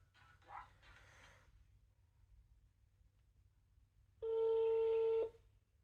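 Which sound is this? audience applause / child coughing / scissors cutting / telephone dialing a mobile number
telephone dialing a mobile number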